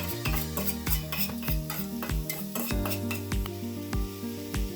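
Onions sizzle in a little oil in a pan for samosa filling, with a soft frying hiss beneath regular rhythmic scraping and clinks of a spatula, close up.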